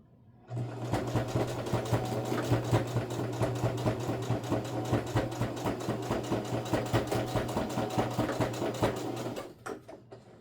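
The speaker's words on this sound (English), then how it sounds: "I'm just gonna sew it shut, and I am gonna backstitch here too." A sewing machine stitches a makeup bag shut in one steady, close run of rapid needle strokes. It stops at the end with a few slower backstitch pulses, and no one speaks.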